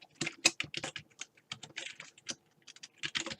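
Rapid, uneven clatter of typing on a computer keyboard at close range, with bursts of keystrokes and short pauses between them and no talk over it.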